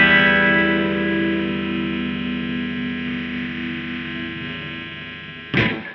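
An electric guitar played fully opened with heavy distortion and effects and no noise gate, one sustained chord ringing loudly and slowly decaying over several seconds before a sharp burst of noise at the end.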